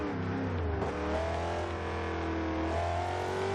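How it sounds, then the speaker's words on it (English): A 2009 Chevrolet Corvette engine revs loudly and steadily in Forza Horizon 2, its pitch climbing and dipping through gear changes. "Love the way this car sounds."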